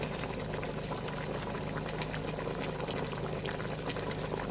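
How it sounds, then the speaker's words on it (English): A pot of bitterleaf egusi soup boils with a constant bubbling and crackling hiss, close and even throughout with no voices. "It's boiling now."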